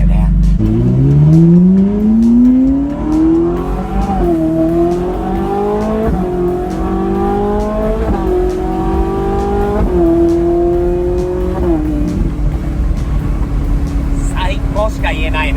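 A Toyota Celica GT-Four in WRC trim accelerates hard through several gears, its engine note climbing and dropping at each upshift, loud and close inside the car with people talking over it.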